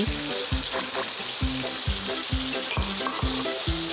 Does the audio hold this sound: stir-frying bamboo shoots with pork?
yes